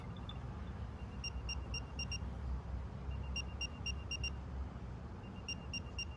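Apple AirTag locate sound: three bursts of rapid, high chirping tones repeating at even intervals over a low background hum, fairly quiet and with no talking.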